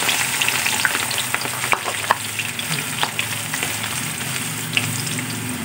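Chopped garlic sautés in hot oil in a pan, a loud dense sizzle with crisp crackles and occasional clinks of a spatula stirring, near and uninterrupted by speech.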